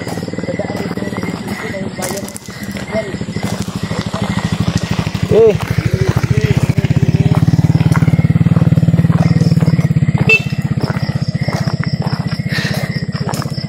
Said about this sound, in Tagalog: May mga motor na dumaan.